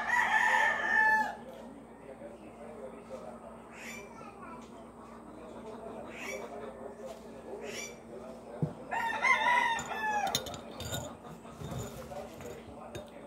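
Roosters crowing at a rural home, several clear cock-a-doodle-doo calls near the start and again later, over a steady background hum with faint clucks and scattered noises.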